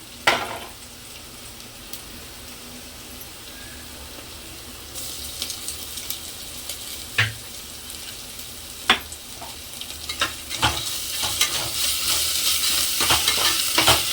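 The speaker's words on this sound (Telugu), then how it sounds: "ఇప్పుడు అల్లం వెల్లుల్లి పేస్ట్ వేసుకుందాం" Onions that have fried golden sizzle in a pan as ginger garlic paste is added, a steady hiss under scattered scrapes and taps of stirring that grow busier and louder toward the end.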